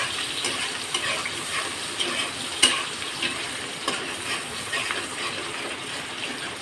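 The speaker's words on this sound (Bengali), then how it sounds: "যে তেলে মাছ ভাজেছিলাম সেই তেলে আমি এখন পেঁয়াজ দিয়ে দেবো" Onions frying in the oil left from frying hilsa fish, a steady bright hissing sizzle up close with a few sharp taps and spatters from stirring, and no talking.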